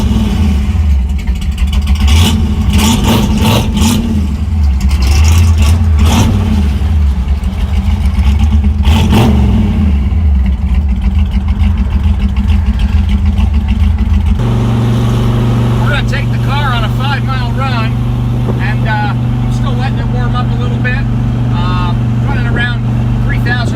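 A 1965 Shelby GT350 Mustang's V8 drones loudly and steadily from inside the car on the move, its pitch shifting partway through as it changes gear.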